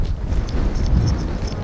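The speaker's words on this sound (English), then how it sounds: "it's very windy, so it's like kind of blowing me" Strong wind buffets the microphone outdoors, a constant low rumbling roar with gusty surges, loud and close throughout.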